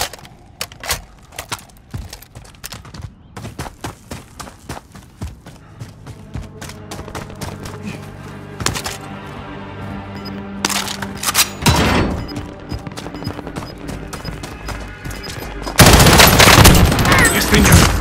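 Call of Duty Modern Warfare gunfire: scattered sharp shots and bursts early, then heavier sustained automatic fire and loud blasts building toward the end, with a voice talking at times.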